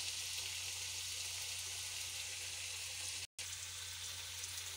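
Aloo baingan curry sizzles in a pan as a faint, continuous hiss of frying, steady and soft throughout, with a brief dropout near the end.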